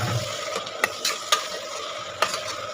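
Guvar beans, ghisoda, galka and potatoes are stirred in a pan of oil for undhiyu, with a soft sizzle under a few distinct spoon scrapes and knocks against the metal.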